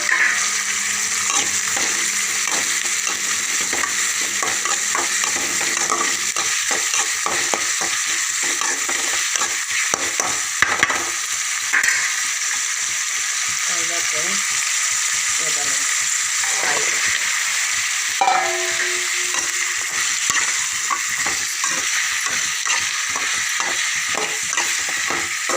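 Onion and tomato frying and being stirred in a pan for a drumstick tamarind curry, a steady bright sizzle carrying on throughout with repeated scraping stirs and clinks, close and moderately loud, with a voice talking at times.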